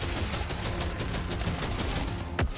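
Rapid continuous gunfire from the video game Deep Rock Galactic: Survivor, a dense fusillade of quiet shots rattling steadily throughout with no talk.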